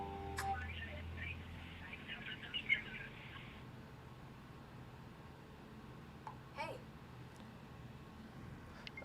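Customer care phone hold music on a call, a faint tinny melody for the first few seconds, followed by low line noise with a couple of brief clicks and people talking quietly.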